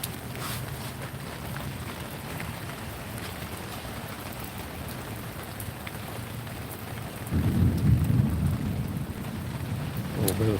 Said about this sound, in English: A little bit of thunder.